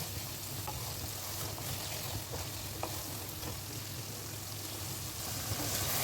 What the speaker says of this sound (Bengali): এবার আমি গ্যাসটা একটুখানি বাড়িয়ে দেব, দিয়ে মশলাটা আরেকটু ভাজা ভাজা করে নেব।